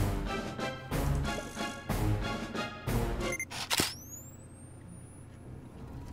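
A camera shutter clicks in the video game Hiveswap as a selfie is snapped, a sharp snap followed by a rising electronic whine over steady game music.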